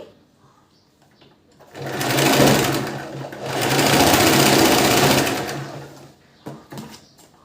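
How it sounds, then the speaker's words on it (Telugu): A sewing machine stitches a princess cut blouse in two loud, steady bursts of motor whir, about two seconds each with a short pause between, set between quieter stretches at the start and end. "నాట్ వేసి ఇంకొక స్టిచ్ అనేది వేసేసుకోండి"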